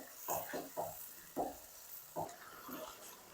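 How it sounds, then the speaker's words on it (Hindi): Chicken and spices being browned in a pot for biryani, with a low, quiet sizzle broken by several distinct scraping stirs at an irregular pace. No one speaks. "4 से 5 मिनट तक ना भुनाई कर लेंगे मसालों की अच्छी तरह, चिकन की भी"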